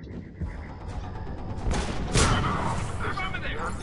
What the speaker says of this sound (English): Boom. Biotic explosion.